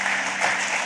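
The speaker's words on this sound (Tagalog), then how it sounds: "Sige po, yung palakpak para sa Diyos" A church congregation at a Filipino worship service claps for God. It is a brief burst of steady, even applause filling the room.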